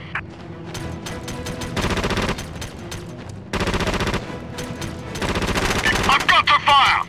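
Bursts of automatic gunfire rattle through a Socom 3 video game battle, with rapid, dense volleys separated by short pauses and loud, sharp cracks near the end, mixed with faint radio-style chatter.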